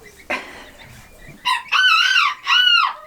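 A rooster crows loudly and close by on a farm where geese hatch and a duck raises goslings, giving two long harmonic crows after a short clucking start, with faint background noise.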